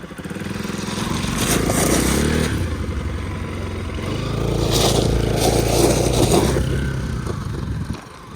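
A motorcycle ride over a rough, muddy road on the way to Sisneri near Kathmandu, the engine droning steadily with rattles and scrapes from the bumpy surface, easing off near the end.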